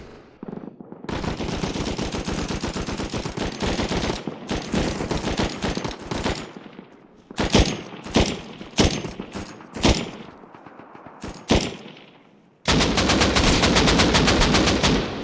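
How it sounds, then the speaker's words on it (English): Automatic M4 rifle fire during target practice in Rust Console, loud rapid strings of shots split into several bursts with short gaps, ending in a final sustained burst. "Dude, why does my M4 sound like a light LMG?"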